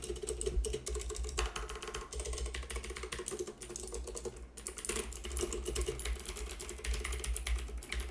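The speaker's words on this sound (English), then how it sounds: "If you're a fan of mechanical keyboards, this might be for you, and it already has that really loud tactical feedback." Keys clatter rapidly on an AUKEY mechanical RGB gaming keyboard, a dense, continuous stream of loud, sharp clicks with no talk.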